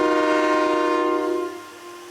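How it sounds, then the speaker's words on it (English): Refurbished vintage train air horns mounted on a Featherlite RV coach blast a single loud, sustained chord with rich harmonics, holding strong for about a second and a half before the tone drops off and fades. "He specified literally the loudest air horns in the world."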